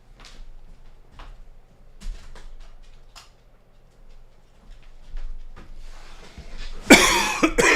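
One sudden loud cough close to the microphone near the end, after several seconds of quiet room noise with faint clicks and taps.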